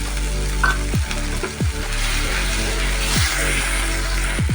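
Steady loud sizzling of paste frying in a hot pan, with a few scraping stirs of a spatula cutting through.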